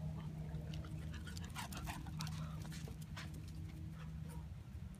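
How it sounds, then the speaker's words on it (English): A puppy pants and whimpers close by in a room, with rapid breathy huffs and short high whines running through the whole stretch, while a faint steady hum sits underneath. "We're tousling the dog."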